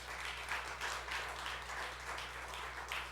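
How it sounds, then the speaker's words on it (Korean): A church congregation at a Sunday afternoon service applauding, a steady wash of many hands clapping together at moderate volume over a low hum, with no talking. "다시 한번 하나님께 영광의 박수 올려드리겠습니다"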